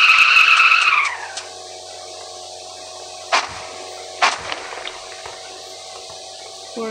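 Tires squeal in a long, loud skid at the start of a video game car scene, fading out after about a second, followed by a few short sharp knocks and thuds.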